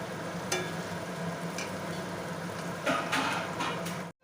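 Onions sizzle steadily in hot oil in a pan while mutton is being cooked, with a continuous close frying hiss and a few stirring scrapes, and no one talking.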